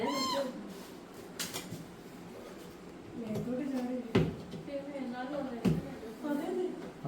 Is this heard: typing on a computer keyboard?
no